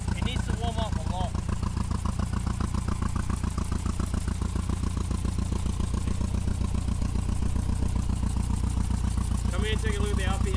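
A homemade Volkswagen-engined trike idles as it warms up, with a fast, steady, close mechanical chugging and clatter that stays even throughout, while someone talks over it.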